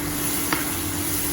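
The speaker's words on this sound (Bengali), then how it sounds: "জিরে আর লঙ্কা, কাঁচা লঙ্কা ফোড়ন দিয়েছি।" Cumin seeds and green chilies spluttering in hot oil for a tempering, a steady close sizzle with one brief crackling pop midway.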